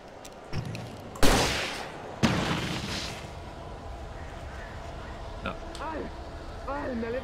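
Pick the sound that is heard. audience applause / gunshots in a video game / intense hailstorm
gunshots in a video game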